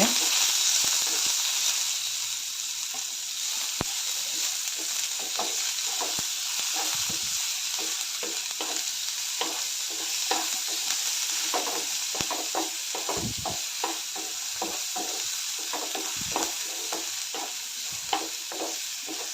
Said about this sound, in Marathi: जिरे चांगले फुललेले आहेत त्यामध्ये आता मिरची कांदा कढीपत्ता घालते एक दोन मिनट भाजन घे